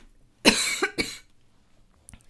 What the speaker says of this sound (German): ich musste schon wieder husten